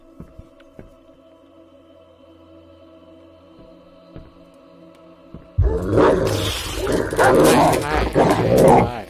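Dog in the horror video game Layers of Fear: Inheritance, a sudden loud burst of growling, barking vocalization after quiet ambient tones and soft clicks, sustained and rough near the end.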